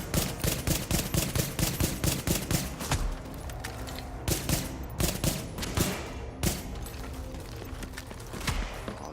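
Rapid bursts of automatic gunfire in The Division, loud, close volleys of shots with brief pauses between strings, mixed with mechanical weapon clatter.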